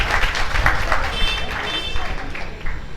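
Gathered devotees at a religious ceremony in Jaipur break into applause, a choppy patter of hand claps rising and falling, close by with some background voices.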